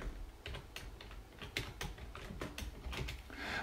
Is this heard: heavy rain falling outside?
no